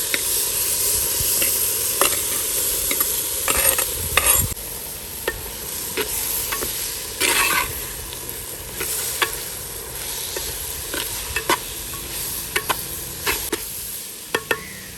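Ivy gourd stir-fried in masala in a pan sizzles steadily, with a spatula scraping and clacking against the pan at irregular intervals, close and alone, no voices.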